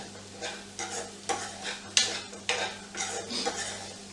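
Onions frying in a pan beside dosa on a stovetop, with a soft sizzle under a string of distinct stirring scrapes and clinks of utensil on metal, close and fairly quiet.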